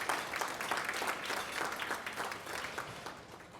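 A roomful of lunch guests claps for an event organizer, brisk clustered applause throughout, slowly easing in loudness.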